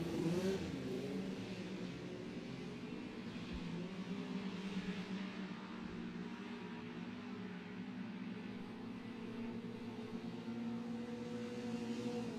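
A Formula-style race car comes around a hairpin turn on the final lap at an Allerton race meeting, a distant, steady engine whine that swells and fades, heard alone without commentary.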